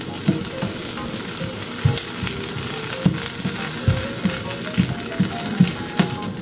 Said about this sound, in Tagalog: Prito muna natin ang ating potato.